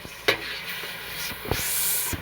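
Ground spice paste (turmeric and chilli-tamarind) goes into a simmering sardine fish curry: soft hissing bubbling with a few sharp splashing pours and clinks, one stronger hiss building toward the end, no talking.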